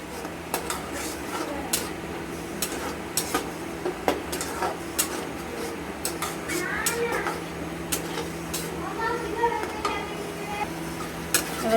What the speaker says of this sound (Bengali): দিয়ে আমরা টক দইটাকে অনবরত নাড়তে থাকবো, না হলে ছেটে যাবে।